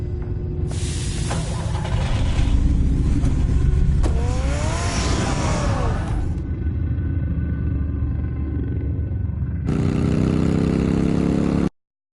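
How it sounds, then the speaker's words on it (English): Batman's car in the Batman Telltale game starts and roars loudly, its engine revving and surging in waves, then settling into a steady drone before a final burst that cuts off abruptly to silence. "Get the car ready, Alfred."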